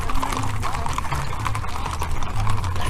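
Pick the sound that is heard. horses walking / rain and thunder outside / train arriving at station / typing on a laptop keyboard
horses walking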